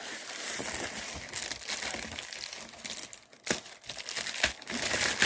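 Packaging on a MoYu RS3 Rubik's cube box is torn and crinkled off by hand, a close, fairly quiet stretch of plastic rustling and crumpling with a few sharp ripping bursts toward the end.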